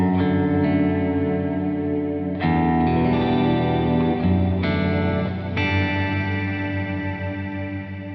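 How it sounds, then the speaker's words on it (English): Sustained electric guitar chords drenched in heavy reverb, swelling into a wide pad-like wash, restruck a few times, loud and continuous with no voices. "With a reverb like this, it can get a bit too much."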